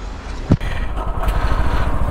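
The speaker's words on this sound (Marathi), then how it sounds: "भेटूया आपण डायरेक्ट आता बाईक राईडवर" A motorcycle engine drones steadily as the bike rides along a road toward Vasai, India, with a brief thump near the start.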